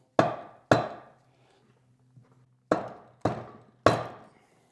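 Five sharp metallic hammer taps on a small shaft in a transfer case during a rebuild, delivered as two quick strikes, a pause, then three more, each ringing briefly before dying away; no voices.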